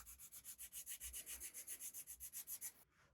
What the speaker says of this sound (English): just go all the way around and quickly polish it